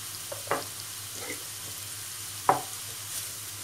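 Ingredients stir and sizzle softly in a pan, with a couple of spoon scrapes and knocks against the metal over a low steady hiss, quiet and without talking.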